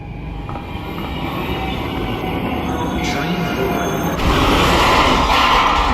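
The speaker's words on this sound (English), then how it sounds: "There's a train nearby, I'll call it in." Train rolling in on the tracks in the video game Vertigo 2, a steady rumbling roar with rail clatter and faint wheel squeal that swells louder near the end, under a voice.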